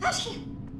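A sneeze from a girl in a dark house at night, one sharp burst near the start that tails off quickly, close and fairly loud with a faint background hum.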